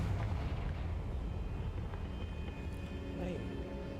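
A Confringo blast spell erupts in Hogwarts Legacy, a dense rumbling boom that fills the whole stretch at steady loudness, with a faint voice mixed in.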